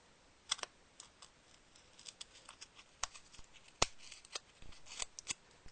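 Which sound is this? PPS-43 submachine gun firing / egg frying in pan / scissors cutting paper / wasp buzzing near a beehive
scissors cutting paper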